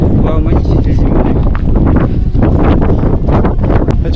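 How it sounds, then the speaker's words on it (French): Strong wind buffets the microphone on a mountain at 2600 metres, a continuous loud roar with gusty swells throughout, and voices are faintly mixed in. "On va dire il y a un peu de vent."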